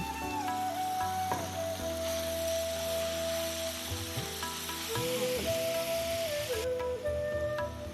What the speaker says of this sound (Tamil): சிக்கனையும் போட்டு நல்லா வதங்கட்டுங்க